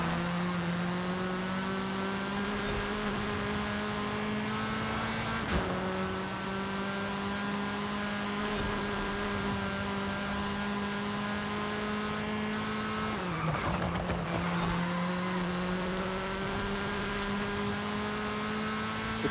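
A small car racing in Forza Horizon 5, its engine holding a steady buzzing drone with a few gear shifts and rev changes, loud and continuous, with no talk over it.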